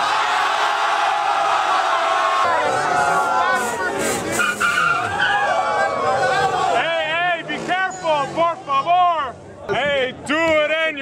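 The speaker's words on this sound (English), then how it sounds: "They doing burnouts yet?" A car does burnouts with squealing, screeching tires and a revving engine, while a watching crowd hollers and chatters around it, voices growing more prominent toward the end.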